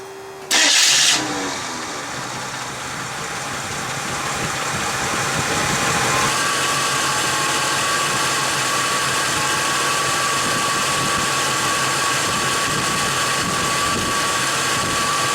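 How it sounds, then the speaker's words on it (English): A Jeep YJ with the 258ci inline-six cranks with a sharp starter whir, catches and fires up, then settles into a steady, loud idle that continues evenly for over ten seconds with no talking. "Let's start it back up just to double check that the distributor hasn't moved"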